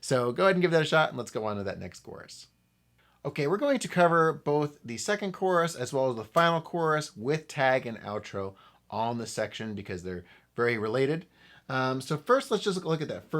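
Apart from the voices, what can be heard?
No distinct noise like a dog, phone or traffic.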